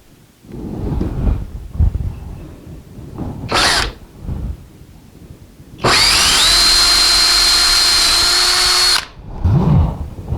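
An electric drill bores a bolt hole through a wooden piece of a circle cutting jig, a steady loud whine running for about three seconds after brief quieter handling sounds and short bursts.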